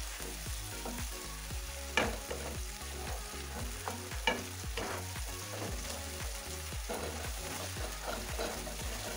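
Finely chopped onion sizzles in a pan over a medium flame as it is stirred with a spoon, giving a steady frying hiss broken by rhythmic scraping strokes and a couple of louder knocks.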